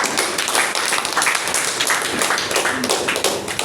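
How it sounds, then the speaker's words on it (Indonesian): Dense audience applause at an Indonesian company sponsorship event, steady broadband clapping filling the room without a break. "Aplaus untuk Tour Sina."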